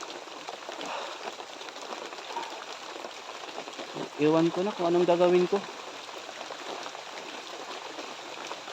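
Steady rain falls outdoors as a constant patter and hiss throughout, with a voice speaking briefly in the middle over the downpour.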